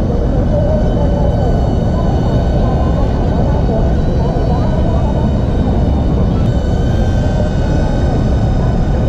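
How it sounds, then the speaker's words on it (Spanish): An outdoor drone flying nearby, with a steady, loud, continuous motor whine and drone of rotors holding throughout without break. "What do you feel flying the drone, Yamal?"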